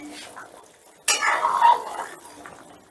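A metal lid comes off a pot of Bengali chana dal and cabbage curry with potatoes after about ten minutes of covered simmering over medium heat: a sudden sharp clank, then a brief rattle and clink of metal fading out.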